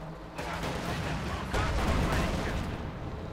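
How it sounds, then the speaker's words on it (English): Dense battlefield gunfire and heavy booms from anti-tank guns and mortars fill a Company of Heroes 2 match, a continuous loud barrage of overlapping shots and blasts. "anti-tank guns firing there, anti-tank guns firing"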